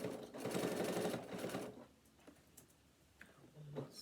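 Sewing machine running a reverse back stitch along a bag seam, about a second and a half of steady close whirring that stops, followed by faint scattered clicks and small handling sounds.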